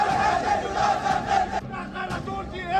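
A large protest crowd in Hyderabad chants slogans in unison, a dense, loud roar of many voices rising and falling continuously throughout, with a brief dip midway before the chanting swells again.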